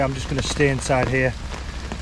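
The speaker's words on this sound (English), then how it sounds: "yet again it's raining, exactly the same as it was last night" Rain falls steadily on a hammock camp in terrible weather, a soft, continuous hiss running under a man's close, clear talking.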